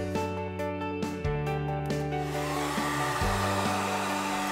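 A heat gun blows hot air onto vinyl wrap pressed into a deep channel, a steady loud whooshing hum that shifts pitch a few times beneath background tones.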